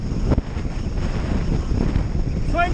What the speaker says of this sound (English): We've got a headwind, not a good wind this, headwind, 26 miles an hour